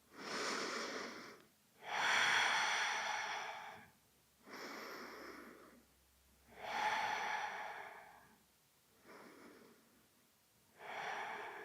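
Deep rhythmic breathing during a beginner yoga flow, slow close-up inhales and exhales in about six long, audible cycles separated by brief pauses, heard alone.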